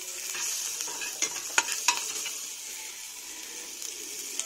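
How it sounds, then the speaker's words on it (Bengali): Onion frying in hot oil for tempering dal gives a bright, fairly quiet sizzle, broken by a few crisp stirring clicks and scrapes of a spoon in the pan. "তো এতিয়া মই সেইখিনি চম্বাৰ মাৰিম। তো পিঁয়াজ অলপ দি দিলোঁ"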